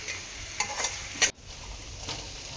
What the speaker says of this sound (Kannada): ಈಗ ಒಂದು ಆಲೂಗಡ್ಡೆ ಹಾಕ್ತಾಯಿದ್ದೀನಿ, ನೀವು ನೋಡ್ತಾ ಇರ್ಬೋದು. ಒಂದು 5 ನಿಮಿಷ ಫ್ರೈ ಆಗಲಿ.